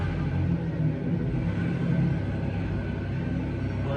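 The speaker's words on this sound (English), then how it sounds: "I think that's dude's truck. Next door." A neighbor's truck engine rumbles next door, a steady, deep, continuous drone that holds an even level throughout without revving.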